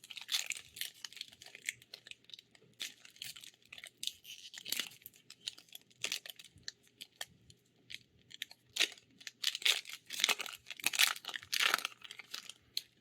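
Crinkly plastic wrapper of a Magic: The Gathering March of the Machine booster pack being torn and crumpled open up close, with quiet, irregular crackling and rustling bursts throughout.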